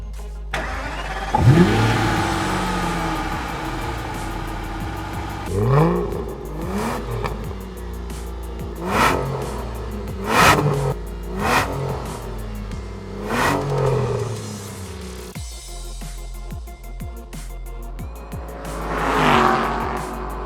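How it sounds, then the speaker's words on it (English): A loud V8 engine starts and revs repeatedly, sharp throttle blips rising and falling in pitch over a steady idle rumble, close up. "let's have a listen to that V8."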